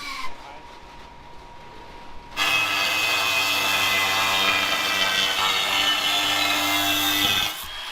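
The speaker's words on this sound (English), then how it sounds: "I'm gonna cut them out of this right here" A power saw cuts through metal stock to make spacers for grill fins, a steady loud grinding whine that starts abruptly after a quiet moment and runs continuously for several seconds before stopping.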